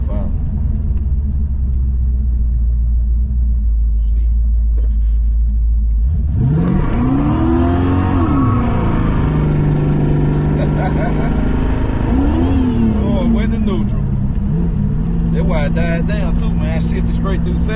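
A Buick Regal V8 with a new intake and carburetor idles with a low rumble, then revs hard and accelerates through the gears, the engine note rising and falling loud and close inside the car while someone talks over it.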